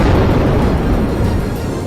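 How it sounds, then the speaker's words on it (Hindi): A heavy, sustained roar of an explosion from an Israeli strike on the Gaza Strip at night, loud and rumbling throughout with dense low-end energy and no voices. "एक धमाका तो इतना जबरदस्त था कि कान के पर्दे फट जाएं।"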